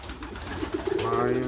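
Pigeons in a loft coo softly, a short low murmuring call rising at the end, with other birds faintly behind.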